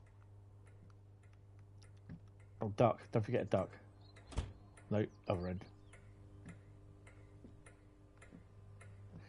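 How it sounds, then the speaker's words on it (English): Faint, regular ticking inside a simulated train cab in Train Sim World 5 on the West Coast Main Line, quiet clicks repeating throughout beneath a low hum while people talk briefly in the middle. "And that ticking noise happens all the time."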